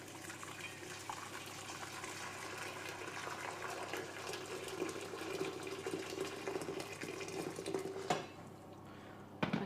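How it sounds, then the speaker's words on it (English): Boiling water poured from a kettle into a cooking pot in a home kitchen makes a steady, fairly close rushing splash for about eight seconds, ending with a brief clink of metal. "So I've just got a pot here and some boiling water, so I'll just pour that in."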